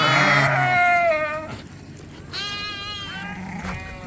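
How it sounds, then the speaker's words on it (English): Lambs bleating as the first group is moved to a covered pen on a sheep farm, several loud close calls, long wavering cries one after another with short gaps. "This is the first group of lambs to go to the coverall."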